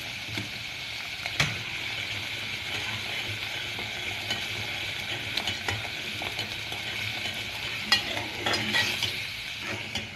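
Spice masala with turmeric fries and gets stirred in a pan for aloo phali, a continuous low sizzle broken by scattered scraping knocks and clicks of the spoon against the pan.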